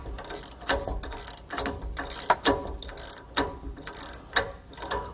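A ratchet wrench clicks in quick, uneven bursts while tightening the U-bolts of a Roadmaster Reflex steering stabilizer on a 2014 Thor motorhome, close and fairly loud.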